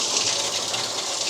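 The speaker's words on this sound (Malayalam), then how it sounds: "ആ വെള്ളം മതി. നിർത്തിക്കോ. പൈപ്പ് നിർത്തിക്കോ." Water runs steadily from a household tap, a continuous close hiss and gush that holds even for the whole moment with no voices over it.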